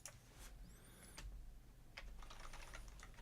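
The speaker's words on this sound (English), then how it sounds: "So I'm typing crafter." Computer keyboard typing, a quiet series of separate key clicks in a loose, irregular rhythm, close by but faint, with no voices.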